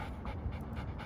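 A dog panting in rapid, rhythmic breaths close by, steady and moderately loud throughout during a training session, with no talking.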